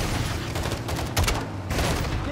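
Heavy gunfire in Modern Warfare 2 roars in a constant dense barrage, with a sharper burst midway that could be the launcher rocket hitting, loud and close.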